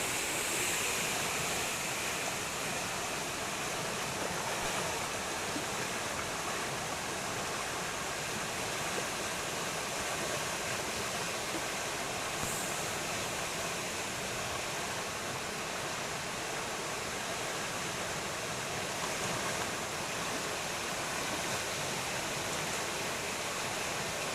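Floodwater rushes hard after heavy rain, a dense, constant roar that holds steady throughout without voices.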